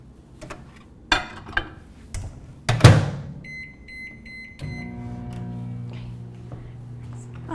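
A microwave oven runs with a spaghetti squash inside a container with a little water: clattering clunks as the door shuts and keypad beeps, then a steady low hum with a faint whine settles in from about five seconds.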